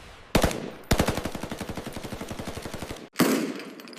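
A German MG-42 machine gun on a D-Day defensive position overlooking Omaha Beach fires a loud, close burst: an initial shot, a long rapid stream of evenly spaced rounds, then a brief pause and another blast.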